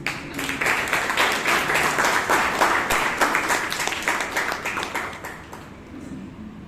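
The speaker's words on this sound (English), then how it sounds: "Round of applause, please." An audience at a Toastmasters meeting gives a steady, dense round of applause that lasts several seconds and fades slightly toward the end.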